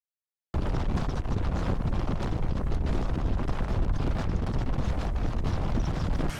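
Strong, steady wind buffeting a microphone on the Vancouver Island shoreline, a loud continuous roar and rumble that starts abruptly and holds without a break to the end.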